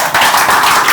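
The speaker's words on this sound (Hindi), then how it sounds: "तो आप तालियां थोड़ी और जोर से बजा सकते हैं" A hall audience at a student success-story talk claps loudly and continuously, a dense burst of hand claps filling the short moment with no talking.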